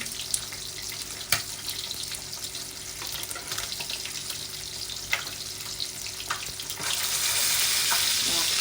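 Vegetables blanch in a pot of boiling water in a home kitchen, a steady bubbling hiss with occasional splashes and clinks, growing denser and louder toward the end.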